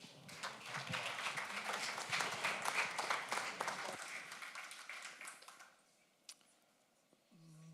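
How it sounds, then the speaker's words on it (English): A crowd applauds with dense, steady clapping that swells and then fades out toward the end, leaving near quiet with a few stray claps. "A round of applause for him."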